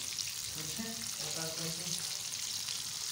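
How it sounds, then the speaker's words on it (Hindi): Marinated chicken leg pieces fry softly in a pan, a faint, even sizzle with a brief tonal murmur in the middle, heard at low volume. "अब हम इसको सब तरफ से पलटते रहेंगे ताकि हमारी लेग पीस चारों तरफ से गोल्डन तरीके से फ्राई हो जाए"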